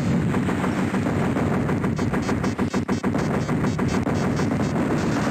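An arcade video game's rocket launcher fires in a loud, dense barrage of rapid blasts that flow together into continuous gunfire-like noise with no pause in the racket.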